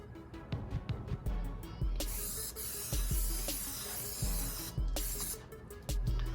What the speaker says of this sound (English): This is one of those atomizing sprayers.